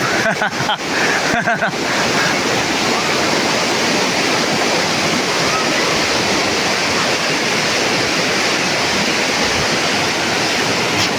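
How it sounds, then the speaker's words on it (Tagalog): Steady, dense roar of heavy rain filling the whole clip, loud and close, with a few brief thumps near the start. "Lakas ang ulan."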